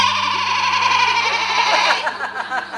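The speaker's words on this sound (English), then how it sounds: "It's a local organic goat." A goat bleats loudly and close, a wavering, nasal cry that holds for about two seconds before breaking into shorter quavering bursts, with no one speaking over it.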